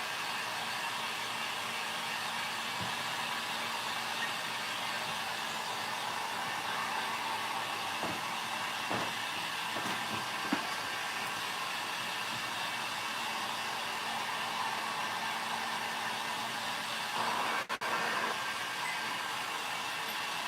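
A hair dryer runs steadily and close up for the whole stretch, drying paint and a rust effect on a stenciled wood craft project, with a few faint clicks and handling bumps along the way.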